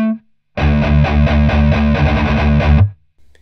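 A short burst of percussive, palm-muted death metal guitar played through heavy distortion, a tight chugging riff lasting a few seconds before stopping abruptly, alone and loud.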